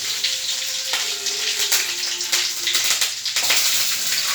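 Curry leaves and garlic dropped into hot oil for a carrot poriyal, a dense crackling, spluttering hiss that holds steady and close throughout, no voices.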